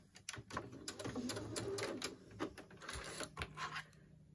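A sewing machine back stitches a face mask in quick, uneven bursts of mechanical clatter, close but quiet, with short pauses between runs of stitches.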